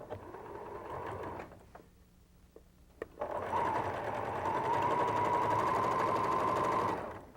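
Quilt pieces chain-stitched on a sewing machine: a steady close whirring run, a pause with small clicks and handling, then a longer continuous stretch of stitching that stops abruptly.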